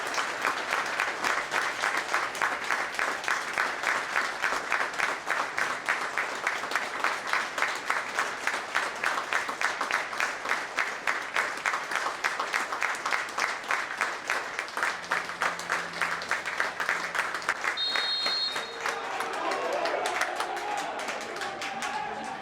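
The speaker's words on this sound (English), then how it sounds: "I will now invite the match referee to signal the start of a minute's applause." A football stadium crowd gives a minute's applause before a Boreham Wood versus Aldershot Town match, a steady, dense wash of clapping sustained throughout, with a brief tone and some scattered voices near the end.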